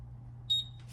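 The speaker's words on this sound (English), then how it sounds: "So y'all gonna have to forgive that beeping." A stove timer gives a brief high electronic double beep over a low kitchen hum, fairly faint and heard alone.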